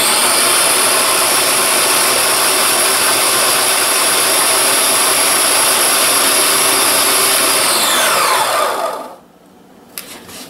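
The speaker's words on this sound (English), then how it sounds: "Put the sugar and the lemon peels in a food processor and process until the zest is completely incorporated into the sugar." A food processor whirs loudly and steadily while processing sugar with lemon peels, a continuous grinding buzz that runs for several seconds and then cuts off abruptly.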